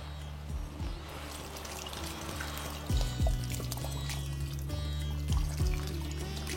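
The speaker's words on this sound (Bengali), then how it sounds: "তখন এখানে দিয়ে দিন পরিমাণ মতো জল।" Water is poured into a pan of dalia for cooking, a soft continuous splashing trickle under a steady low background hum, with a few quiet knocks of the vessel.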